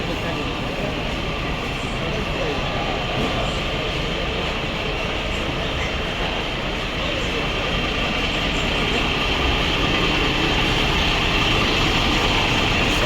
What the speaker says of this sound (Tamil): சவுண்டை கேட்கும் போதே அப்படியே உள்ளுக்குள்ள ஏதோ பண்ணுதுங்க. Typical Volvo engine.